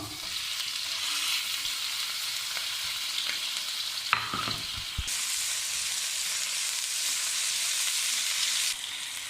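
Chopped onion and minced chicken sizzling in a pan of oil for a pizza topping, a steady loud fry with brief stirring clatters midway and the sizzle flaring brighter afterward.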